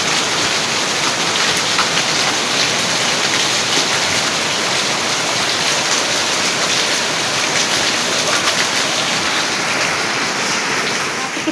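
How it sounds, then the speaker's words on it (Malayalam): A heavy downpour drums steadily on surfaces nearby, a thick continuous wash of rain with scattered drop splatters and no talking. "നല്ല മഴ കേട്ടോ"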